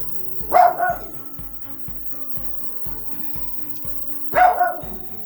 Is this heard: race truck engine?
no